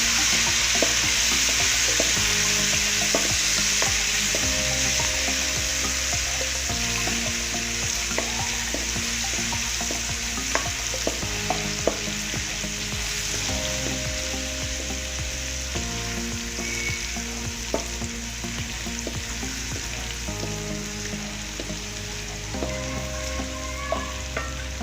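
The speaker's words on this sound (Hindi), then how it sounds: "एक खाने का चम्मच अदरक लहसुन का पेस्ट लिया था, इसको हम थोड़ा सा फ्राई कर लेते हैं" A tablespoon of ginger garlic paste fries in a pan for restaurant-style chicken fried rice, giving a loud, steady sizzle with constant stirring for the whole stretch over a tonal backing, no speech.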